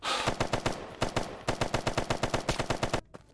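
Automatic weapon fire in a military commando video game, shooting at the player from a base: a close, loud, rapid burst of gunshots continuing for about three seconds, then stopping abruptly.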